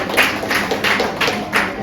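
Audience applause at a birthday prize ceremony: a steady patter of many hands clapping, loud and close, in rhythmic waves of pulses with no voices on top.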